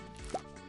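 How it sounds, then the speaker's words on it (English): A watering can pours onto plants in a video game, heard as a single short liquid plop or drip that stands out briefly over a steady low game background. "I guess we'll water everything"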